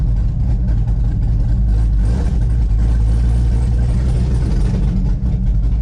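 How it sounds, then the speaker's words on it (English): A Chevrolet Camaro ZL1 with a header dump exhaust runs with a loud, raw, continuous low-frequency rumble and rattle, heard close up from inside the car. "It just sounds like something is wrong with my car when I'm header dump."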